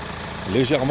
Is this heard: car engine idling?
yes